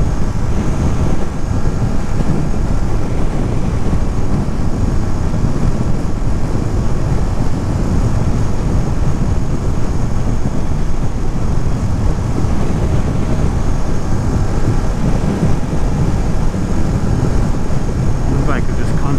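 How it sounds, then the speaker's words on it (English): Strong head-on wind buffeting the microphone while riding a Ducati motorcycle on a cruise from Nyack to the Bronx, a loud, steady roar that fills the whole stretch without letting up. "Windiest part of this whole journey"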